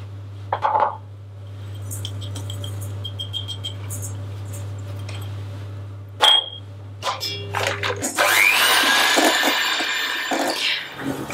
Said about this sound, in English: Use an extra bowl and mix the egg yolks with a two-third of sugar.